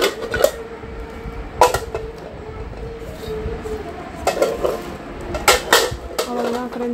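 A medium-size pan and its matching lid handled during unpacking of luggage, giving a few sharp metallic clinks and knocks spaced apart over a low steady background hum.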